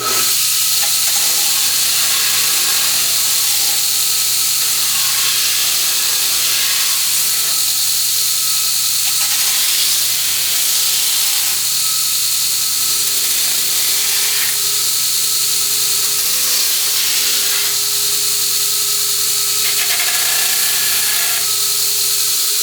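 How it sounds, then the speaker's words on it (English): A pneumatic drum sander smoothing the edges of a CNC-cut guitar body in a workshop, a steady loud hissing drone with a low hum running throughout, rising and easing slightly as the workpiece is pressed and moved. "here we are at the pneumatic drum sander, and I'm just going to clean up this a little bit"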